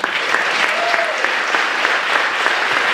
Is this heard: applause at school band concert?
yes